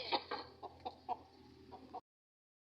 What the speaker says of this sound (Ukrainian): Ще одна курочка.